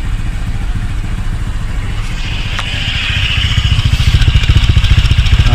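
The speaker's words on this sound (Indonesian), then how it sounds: "Tu dengar tu bunyi rambal." A Honda Vario scooter engine runs close by with a rough, rhythmic exhaust burble that grows louder and choppier toward the end, crackling and popping under a faint higher whine.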